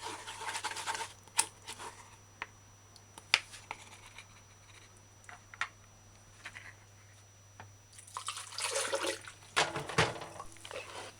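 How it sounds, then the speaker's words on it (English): Water is poured into a blender to rinse out leftover mango pineapple juice, splashing and swirling in bursts near the start and end, with scattered clicks and knocks in between and no talking. "Pour some water in the blender. Wash out the remaining juice."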